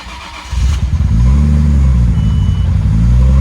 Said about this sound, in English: And let's start her up.